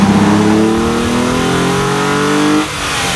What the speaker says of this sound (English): I'd love to show you what the Genesis drives, shifts, and sounds like with a quick montage